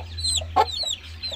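A Rampuri hen clucks close by in a few short, soft calls, with a steady low hum underneath.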